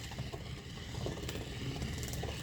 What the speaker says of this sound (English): I'm using my Let's Resin mixer